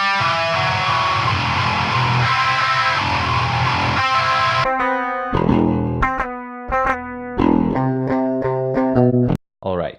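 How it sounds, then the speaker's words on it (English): Heavily distorted electric guitars in a metal mix: a dense wall of sustained chords, then a choppy section of stabbed riffs separated by abrupt silences, loud and upfront. "Now let's move to some guitars."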